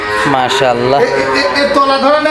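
A dairy cow lows in a long, drawn-out, droning call close by, with the deep bellow continuing for most of the stretch.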